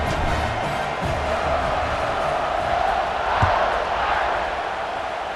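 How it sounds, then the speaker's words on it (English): A large stadium crowd in the video game EA Sports College Football 26 roars in a steady, distant wash, swelling slightly at moments, with a faint commentator-like voice beneath. "You think this crowd's going to get loud when their defense comes on the field?"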